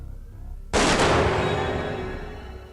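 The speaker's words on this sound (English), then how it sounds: "Scully will shoot us" Scully fires a gun in The X-Files video game: a single loud, close shot that cuts in suddenly, then a long ringing decay that fades over the next two seconds.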